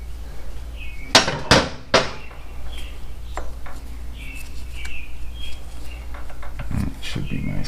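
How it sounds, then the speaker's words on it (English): Several sharp metal hammer blows stake a Stryker pulley on a 2007 Yamaha V-Star 1300 Tourer motorcycle, three loud close strikes in quick succession followed later by lighter taps and small metallic clinks. "I'm going to stake it down right here"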